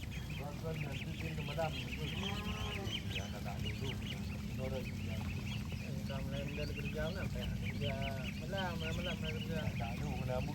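A large flock of about two thousand meat ducks in a rice field area, dense overlapping quacking and honking throughout at steady volume, close and continuous, with people talking underneath.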